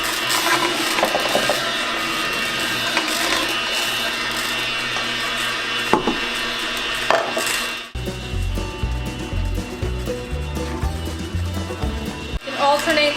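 A Kuvings NSF commercial slow juicer grinds carrots and kale with a continuous mechanical whir, then a louder rhythmic clattering and knocking takes over partway through as produce feeds in, close and prominent, mixed with a voice.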